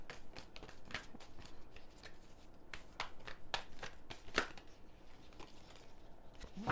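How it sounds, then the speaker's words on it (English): Soft riffling and tapping of a Spirit Animal Oracle card deck being shuffled, close and quiet, with a steady patter of card flicks and occasional sharper snaps, no voices. "Spirit Animal Oracle deck, so I'm going to pull some from there as well"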